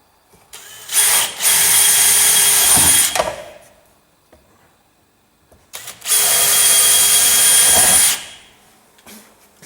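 Power drill cutting holes through a Rover SD1 door skin, two loud sustained bursts of about two seconds each separated by a short quiet gap, close up with no talking.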